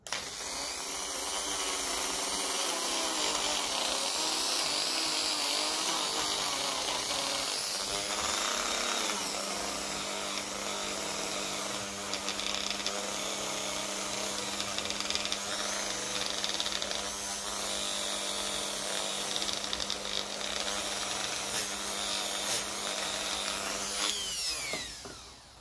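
A worn Dremel rotary tool with rattly, loose bushings runs loud and continuously at close range, a steady high whine with a rough buzzing edge and a shift in pitch partway through before it winds down.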